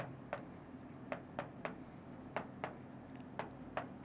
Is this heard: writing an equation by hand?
yes